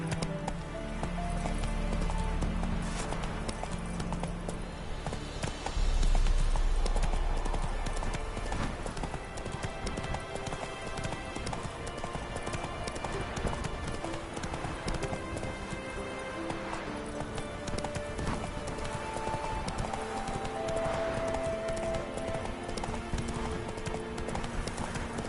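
Roach, a horse in The Witcher 3, gallops with a steady, continuous drumming of hooves that stays close and loud throughout, over a dense game soundscape with a faint patter like rain.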